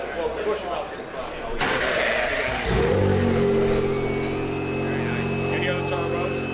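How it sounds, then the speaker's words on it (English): A GTD race car engine in a Rolex 24 endurance race garage cranks and fires up, then settles into a loud, steady idle with a rising rev, with people talking nearby. "So don't worry, our engine's not very loud. Let it start here. It's supposed to get louder."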